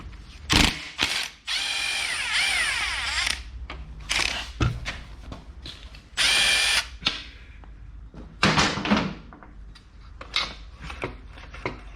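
A ratchet wrench loosens the rear shock nut on a Honda CBR250RR MC22 motorcycle, giving close, loud bursts of rapid clicking that stop and restart several times with short pauses between.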